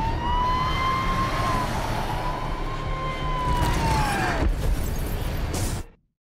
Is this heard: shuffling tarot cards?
no